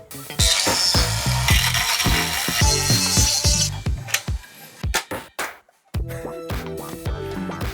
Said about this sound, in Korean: 여기다 그냥 구멍을 뚫어주면 될 것 같아